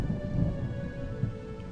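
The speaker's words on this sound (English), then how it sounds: "The sound of thunder rumbled from afar." Distant thunder rumbles low and steady with a soft rain-like hiss, a continuous far-off roll with no speech.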